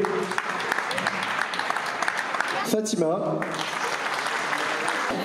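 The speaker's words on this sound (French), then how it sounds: "Donc le groupe de Fontaine-du-Bac, on peut les applaudir." Audience applauding a neighbourhood youth music group at a concert, a steady sustained wash of clapping with a brief voice calling a name over it.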